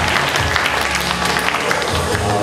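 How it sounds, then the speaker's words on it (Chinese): An audience at a school graduation ceremony applauds to welcome the district chief, with dense, continuous clapping filling the hall. "我们用最热烈的掌声来欢迎我们的严区长"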